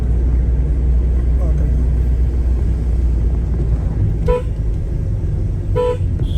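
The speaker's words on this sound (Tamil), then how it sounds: "கீழேருந்து வர்றவங்க வந்து ஹார்ன் அடிப்பாங்க." Two short car horn toots sound over a constant road rumble from a moving vehicle on the Dhimbam hairpin ghat road through a tiger reserve forest, spaced about a second and a half apart.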